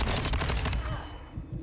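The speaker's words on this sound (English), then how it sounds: "Headshot kill with the gun I picked up." A quick, close burst of gunfire in Call of Duty: Modern Warfare II, several rapid shots in the first part that cut off into a fading tail.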